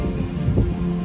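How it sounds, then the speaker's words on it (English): Rain falls steadily at an outdoor farmers market during a tropical storm, a dense, even hiss of drops close by with no talk over it. "We've got some rain here, folks."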